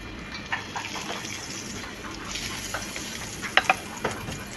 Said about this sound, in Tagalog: Then, ilagay natin yung butter.